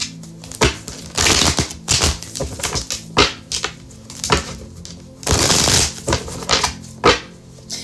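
Tarot cards being moved and shuffled on a table in a series of quick riffling bursts and soft slaps, some longer flurries between shorter taps, close and crisp with no talking.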